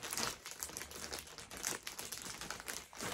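Crinkling of a plastic mystery bag holding twenty skeins of yarn as it is handled and opened, a steady close rustle with sharper crackling bursts throughout, no talking.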